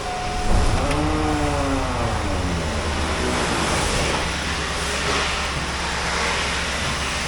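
Steady low rumble of a Chevy Silverado 2500 4x4's 6.0-litre LQ4 V8 idling smoothly, 182,000 miles on it, continuous and close, with a brief rising whine near the start.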